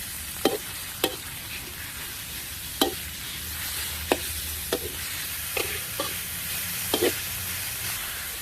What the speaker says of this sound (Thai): ใส่หมูลงไปจ้า ผัดให้เข้ากันจนหมูเกือบสุกอ่ะ